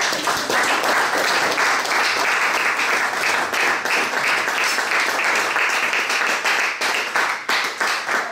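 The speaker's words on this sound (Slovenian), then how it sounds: "Zdaj pa lahko že zaploskamo." An audience at a cultural event in Polzela, Slovenia, applauds warmly and evenly, a dense, continuous wash of clapping hands that holds for the whole stretch.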